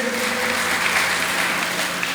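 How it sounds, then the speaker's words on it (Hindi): Audience applause at a Jain sermon during the Paryushan festival in Dimapur, a steady, full round of clapping from a gathered congregation, even and sustained throughout with no speech over it. "एक बार जोरदार तालियों से स्वागत करेंगे।"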